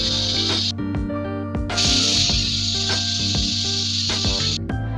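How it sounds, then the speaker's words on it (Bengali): Pressure cooker whistling and hissing out steam while mutton curry cooks, repeated sharp bursts of shrill hiss over a continuous loud steam rush, close and alone with no talk. "আমি মোটামুটি 7 থেকে 8টা সিটি দিয়েছি।"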